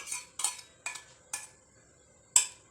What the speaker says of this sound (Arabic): هرسنا البطاطس بالزبده